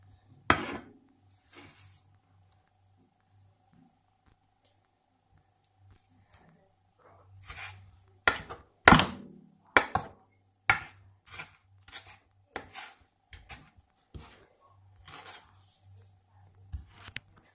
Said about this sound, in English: so I've got some more room to cut up my spring onions